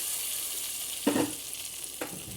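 Spices hit hot oil for a tempering on Punjabi kadhi pakora, with two sharp sizzling bursts, the first louder, over a steady hiss of frying.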